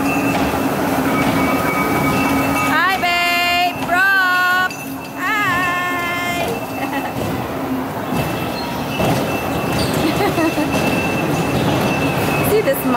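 Steady rumble of a train rolling along the tracks, loud and close, with a few brief voices and a high tonal squeal riding on top.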